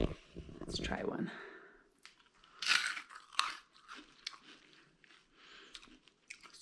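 Freeze-dried Nerds clusters candy bitten and chewed close to the mic, giving sharp crunches and brittle crackles that come in bursts, with a person talking in between.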